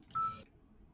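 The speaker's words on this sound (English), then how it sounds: "I heard a beep at the end there." A phone gives a short electronic beep, a single brief tone lasting a fraction of a second before fading into quiet room noise.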